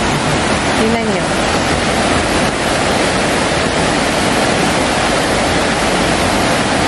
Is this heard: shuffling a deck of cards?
no